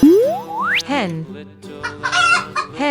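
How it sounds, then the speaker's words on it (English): A hen clucks in a short, loud burst of squawks and warbling calls, with a sweeping, rising cartoon-style tone at the start, all close and clear. "Hen is a farm animal."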